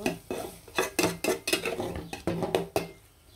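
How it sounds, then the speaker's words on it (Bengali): Chicken pieces are stirred and fried in a pan for restaurant-style Chinese chicken with vegetables, with a quick run of rhythmic metallic spatula knocks and scrapes over a faint sizzle. "মাংসগুলো দিয়ে দিলাম, দিয়ে ভালো করে নাড়াচাড়া দিয়ে কিন্তু ভেজে নিব।"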